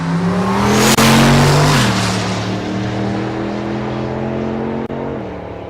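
A drag racing car, running boost with the boost controller on, launches hard and spins its tires at a dragstrip, a loud, close roar that swells and then holds steady as the engine pitch shifts.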